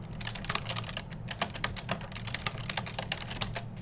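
Rapid, uneven keystrokes on a computer keyboard as a password is entered, close and clear with no talking over them.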